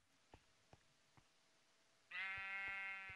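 A sheep bleats in a Minecraft-style adventure map game, one clear wavering bleat near the end after three soft clicks, heard alone at low volume.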